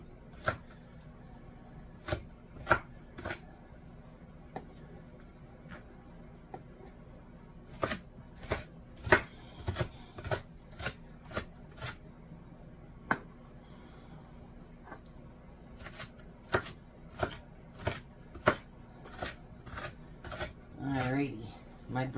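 Knife chopping an onion on a cutting board, sharp close clicks in irregular runs and quick rapid bursts, with a low background hum and someone talking in between.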